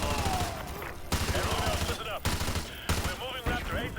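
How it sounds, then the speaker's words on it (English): Grenades and flashbangs detonating one after another in Modern Warfare 2 Remastered, a run of loud, sharp blasts with ringing tails, while a voice talks over the chaos. "there's too many flashbangs and grenades going on actually"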